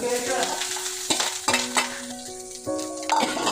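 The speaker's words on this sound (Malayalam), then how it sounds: "ഇത് നമ്മൾ തേങ്ങ ഇടുവാണേ തേങ്ങ മൂപ്പിച്ചെടുക്കാം" Grated coconut roasting in a pan with ginger for a ginger curry, sizzling steadily while a utensil stirs and scrapes the metal in repeated strokes, with a few clinks, close and moderately loud, no talking.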